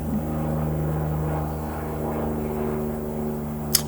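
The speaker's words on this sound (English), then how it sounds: "Sorry, I guess there's an airplane flying over." An airplane flies overhead, a steady low droning hum with a faint propeller tone that stays constant throughout at moderate distance, with no voices.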